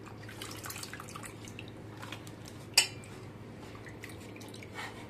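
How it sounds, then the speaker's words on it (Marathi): Washed potato slices for homemade chips sit draining in a container, giving faint scattered drips and one sharp clink of a utensil midway, with no speech. "आता मी हे स्वच्छपैकी पाण्यात मस्तपैकी धुवून घेते स्वच्छ, आणि मग ते थोडा वेळ असं याच्यामध्ये त्याचं पाणी नितरायला ठेवून दे"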